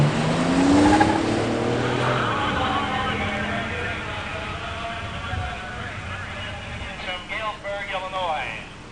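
A 1986 Buick Regal T-Type and a 1986 Grand National roar off the line side by side in a drag race, engines loud and sustained at full throttle as a commentator talks over them.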